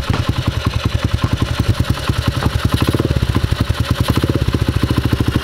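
A Polini 110 pit bike engine runs after years of sitting unused, with a steady, loud, rapid putter and mechanical clatter that holds an even rhythm throughout.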